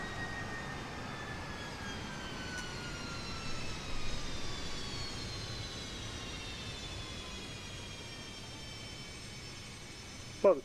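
A Just Flight Fokker 70 airliner takes off in Microsoft Flight Simulator 2024 with a steady jet engine roar. The pitch of the whine shifts slowly, and the sound stays moderately loud and unbroken throughout.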